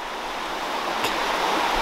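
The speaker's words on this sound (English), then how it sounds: "First really cool spot is this waterfall right behind me, right there." A waterfall in a canyon in Zion National Park, heard as a steady, broad rushing roar of falling water close by, continuous and unchanging throughout.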